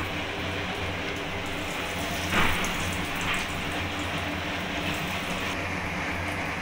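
Egg pakoras sizzle in hot oil in a wok, a steady dense crackle and hiss that fills the clip with one brief louder spatter near the middle, close and continuous, with no talking.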